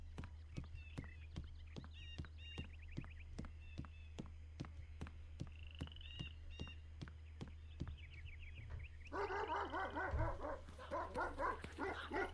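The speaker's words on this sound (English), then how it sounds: "Don't mind the dogs, they just don't take to the smell of gentlefolks" Dogs bark in the video game Sherlock Holmes: The Awakened over a steady, regular clip-clop of hooves, with a loud burst of excited barking near the end.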